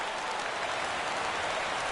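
A sparse baseball crowd in an MLB video game applauds and rises in the ninth inning, a steady, dense wash of clapping throughout.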